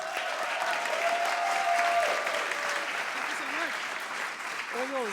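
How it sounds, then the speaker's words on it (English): Sustained audience applause fills the room at a PechaKucha Cape Town Nights talk evening, a steady wash of clapping with a few voices faintly audible underneath. "Round of applause for Terry, everybody."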